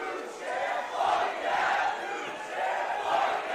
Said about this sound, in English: This crowd is split.